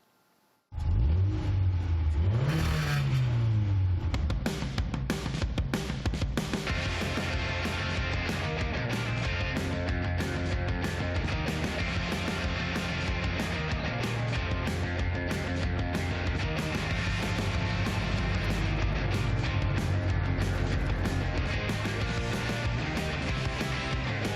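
A trike motorcycle engine starts and revs hard, then settles into a loud, sustained rumbling idle with repeated throttle blips, heard close and alone without talk.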